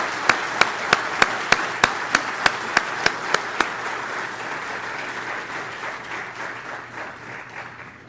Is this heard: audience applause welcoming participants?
yes